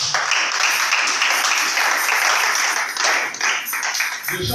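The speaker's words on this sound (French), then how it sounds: "Acclamons pour cette parole." A church congregation breaks into loud, sustained applause, dense clapping filling the room evenly for several seconds before thinning slightly at the end.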